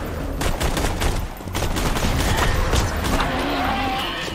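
Gunfire in the video game Borderlands 2 comes in rapid, sharp bursts of shots layered over busy in-game rumble and effects, loud and continuous.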